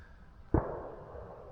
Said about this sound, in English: That is a shotgun.